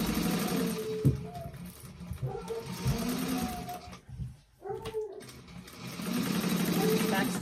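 A sewing machine runs in steady bursts as it stitches a half-inch seam across the bulky boxed corner of a bag, pausing briefly midway and then resuming. Someone talks over the stitching.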